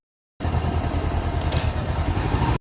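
Honda CB500X motorcycle engine pulling under steady acceleration in second gear, a loud, close, continuous drone that starts abruptly and cuts off about two seconds later, with no talking.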